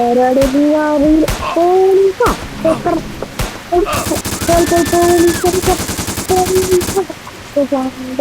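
Gunshots in a comedic scene ring out as sharp reports and then a rapid, sustained machine-gun-like burst, loud and close, with voices speaking over and between them.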